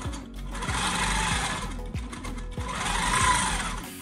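A long-arm quilting machine runs steadily, stitching a free-motion quilting pattern with a continuous close whirring hum that rises and eases with movement, the motor alone with no talking.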